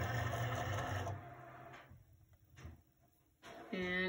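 A Cricut Air 2 cutting machine loads a cutting mat, a steady mechanical whir that stops, followed by a few soft clicks and a brief motor run-up at the end, close and fairly quiet.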